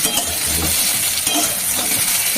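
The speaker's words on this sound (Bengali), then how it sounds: "পটল ভাজা চলছে" Pointed gourd (potol) frying in oil in a pan, a steady close sizzle with a few soft stirring scrapes and light clinks, no talking.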